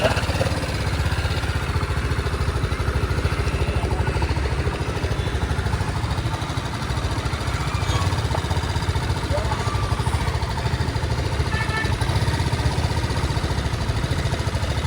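TVS Apache RTR 310 motorcycle engine running steadily on a slope, a continuous close, loud drone with no pauses throughout.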